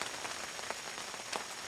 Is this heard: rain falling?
yes